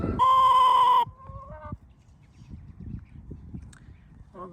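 Retired factory-farm hens make a loud sustained squawk up close, followed by a shorter trailing call and faint scratching, with another brief cluck at the end.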